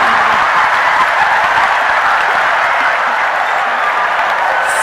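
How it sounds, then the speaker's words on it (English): Women in a live audience clapping steadily, a dense, continuous wash of applause throughout with no voices over it. "The women are clapping."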